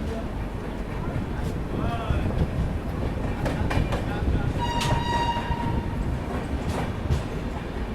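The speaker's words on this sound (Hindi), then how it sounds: "अपने लोकोमोटिव का श्रील हॉन्क मुझे बहुत पसंद आ रहा है।" A locomotive sounds a shrill horn on a moving Indian passenger train, the Vibhuti Express, with several sharp blasts over continuous rolling rail rumble and clatter, heard from inside a coach.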